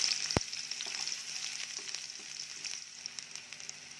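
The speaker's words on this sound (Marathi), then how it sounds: "तेल छान तापलं की यामध्ये आपण जो बारीक चिरून घेतलेला कांदा आहे तो टाकायचा." Finely chopped onion hits hot oil for a sprouted moth bean curry, giving a steady close sizzle and crackle with a sharp pop near the start, and no talking.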